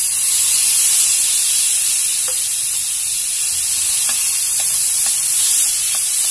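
Pork belly sizzling in a hot frying pan, a loud, dense, continuous hiss of frying fat with occasional faint pops and clinks, close up and steady.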